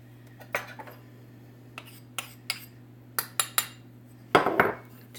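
Sugar and cornstarch being mixed in a bowl for an Instant Pot cheesecake, heard as a handful of sharp, isolated clinks and taps of utensil on dish over a low steady hum, ending in a quick cluster of scraping knocks.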